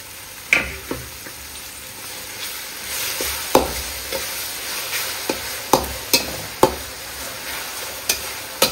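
Browned onions and chopped tomato sizzle in a pan for nati-style egg rice, with sharp scraping clicks of a spoon stirring at irregular intervals over a steady frying hiss.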